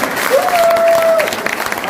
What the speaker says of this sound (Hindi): एक बार जोरदार ताली बजाएं इसके लिए